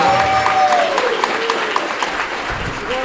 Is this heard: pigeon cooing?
no